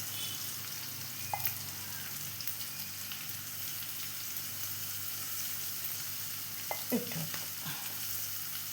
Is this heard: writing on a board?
no